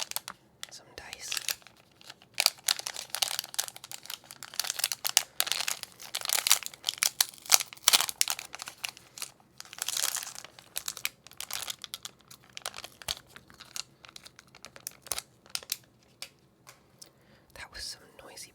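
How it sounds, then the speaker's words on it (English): Noisy plastic packaging from a Pokémon Scarlet & Violet Elite Trainer Box crinkles in close, irregular bursts for the whole stretch, with soft whispering in between. "That was some noisy plastic."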